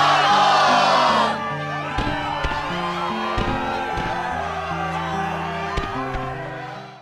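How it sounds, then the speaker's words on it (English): A crowd in Kingdom Hearts 2 cheers and yells in a brief loud burst, which quickly gives way to a busy game music track with steady chords and percussive hits. "Yes, the crowd is fired up, so you know what comes next!"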